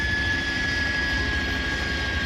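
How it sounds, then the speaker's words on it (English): A continuous whining helicopter engine drone in a video game, with a steady high-pitched tone over low rumbling, loud and unbroken, no talking. "You heard the helicopter, boy."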